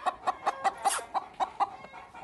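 An Aseel golden buff hen gives a quick run of about nine short, close clucks in an even rhythm, each sharp and bright, ending with a brief pause.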